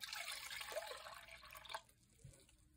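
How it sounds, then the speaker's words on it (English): Water is poured onto yarn dyed with green acid dyes, a faint close trickle and drip that fades after a couple of seconds. "I'm going to add some water."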